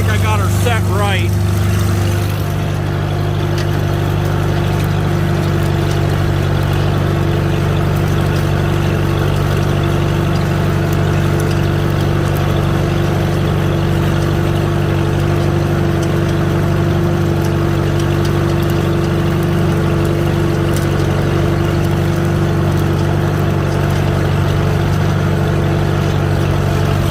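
Farmall tractor engine, a Farmall A or Farmall H, pulling a plow through a furrow, a loud, steady close-range drone holding constant for the whole stretch with a slight rough pulse.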